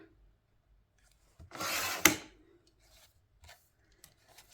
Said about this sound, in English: So again, I'm going to cut off that branding strip.